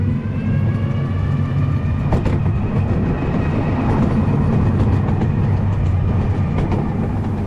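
A train rolls over the track through a junction on the Diamond Valley Railway, with a steady close rumble, rhythmic wheel clatter over rail joints and a few sharp clanks, continuous and loud, no voices.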